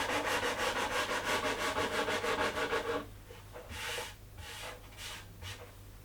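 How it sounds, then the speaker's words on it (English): A sanding block is rubbed by hand over a mahogany console table top in quick, regular back-and-forth strokes, then a few slower, separate strokes follow after a short pause, close and clear. "I switched to a sanding block to ensure that no swirl marks were left on the top"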